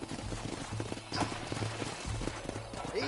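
Horses walk in the Red Dead Redemption video game, their hooves clip-clopping in an uneven, repeated rhythm at moderate distance over a steady outdoor background, with no voices.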